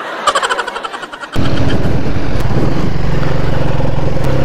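A Benelli Motobi motorcycle engine cranks with a few rapid sputters, then catches and settles into a loud, steady running rumble close by.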